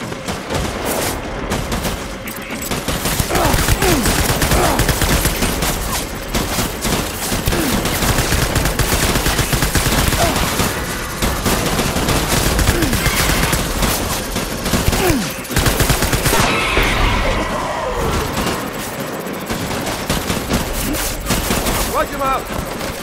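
Heavy video-game gunfire from Death Stranding during a boss fight, sustained loud bursts of automatic fire and shots rattling almost continuously, with shouted voices now and then amid the din.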